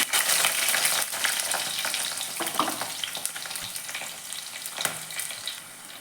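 Loud, steady sizzling of ginger, garlic and chilies frying in hot oil, with occasional scraping stirs and crackles throughout.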